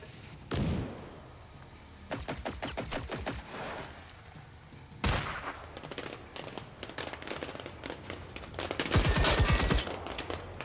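Gunfire in the Generation Zero video game, with a loud single burst, then a rapid rattling volley, another sharp blast and a final dense spray of shots, close and harsh over a quiet backdrop.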